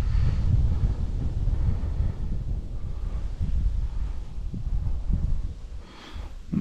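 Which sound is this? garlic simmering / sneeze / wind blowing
wind blowing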